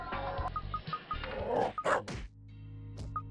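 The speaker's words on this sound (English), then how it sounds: "Oh, good dog. Ah, nice doggy. Nice doggy." A dog in a video game barks in a few short, sharp yips and thuds amid game sound effects and chimes.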